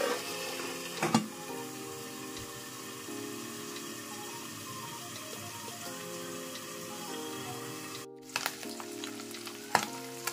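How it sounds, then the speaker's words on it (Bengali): Small kachki fish frying in oil in a covered pan over low heat, a continuous close sizzle with a steady hum and a few clanks of the lid or utensils. "মাছ আমার মোটামুটি ভাজা হয়ে গেছে"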